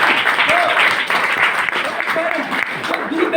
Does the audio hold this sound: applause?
yes